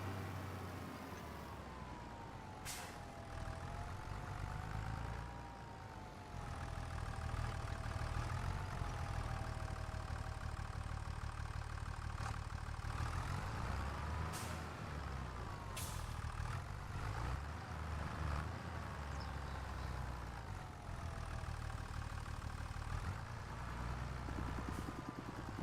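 Tractor engine idling in a farming video game, a steady low rumble that runs continuously throughout with some mechanical clanks and hydraulic whirs on top.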